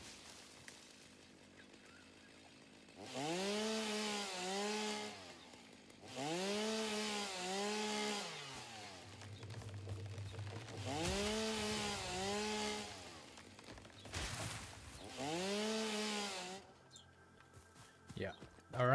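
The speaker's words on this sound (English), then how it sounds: "using the chainsaw is not doing anything much." A chainsaw in the video game Satisfactory revs in about five separate bursts of a couple of seconds each, with quieter gaps between; the buzzing rises and falls within each cut.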